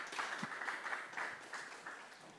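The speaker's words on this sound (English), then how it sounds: "Ladies and gentlemen, a round of applause for them." Audience applause at a Bitcoin conference stage in Cape Town, a short, fairly faint burst of crowd clapping that slowly tapers off.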